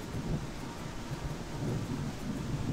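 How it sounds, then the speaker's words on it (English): Heavy storm with steady rain and wind, a dense continuous roar with low thunder rumbles underneath, even and sustained without pauses. "this stormy weather sound effects with heavy rain and wind and occasional lightning"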